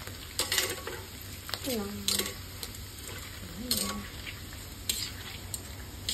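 Mixed prawn crackers frying in hot oil and stirred in a pan, with a steady sizzle under clinks and scrapes of the utensil and a voice speaking briefly.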